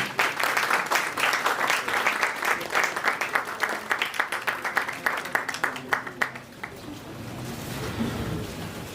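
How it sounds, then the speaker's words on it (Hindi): Audience at a business chamber event applauding an honoree, loud steady clapping that thins into a few sparse, distinct claps before fading into room murmur. "प्लीज एक बार जोरदार तालियों से।"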